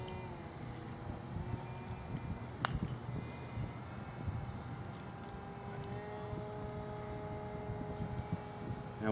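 An electric EA Photon RC model airplane flies overhead as its motor throttles up, a faint, steady distant whine over outdoor background noise.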